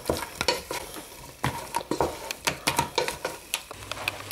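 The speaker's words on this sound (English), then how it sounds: "I'm going to add the crabs and stir for 3 to 5 minutes." Crab being stirred and fried with other ingredients for a Mauritian crab soup, with close, rhythmic scrapes and clacks of a utensil against the pan over a sizzling fry, no voices.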